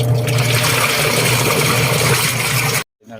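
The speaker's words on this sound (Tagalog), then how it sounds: "isasaksak na natin washing kasi lalagyan na natin siya ng tubig" Water gushes steadily into a washing machine drum, a loud continuous rushing pour that cuts off abruptly near the end.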